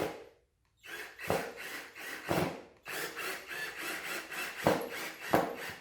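A screw is driven in to fit a vinyl multi-purpose reducer track, giving a faint, close, grinding whir that pulses in repeated strokes after a brief silence.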